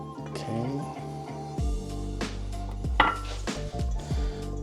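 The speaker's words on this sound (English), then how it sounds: "I'm just going to mix everything together, making sure that we coat everything" Protein is tossed in vegan marinade in a bowl, giving close, irregular clinks and scrapes of a utensil against the dish, a dozen or so knocks without talking.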